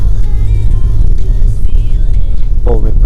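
A 2012 Volkswagen Passat Alltrack B7 with a 2.0 diesel engine and automatic gearbox drives along, its loud, steady engine drone close and continuous, with a brief voice near the end.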